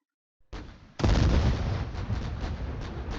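Heavy artillery and gunfire boom through a strategy combat video game battle, one blast opening and then a loud, sustained rumble of shots and explosions running on without speech.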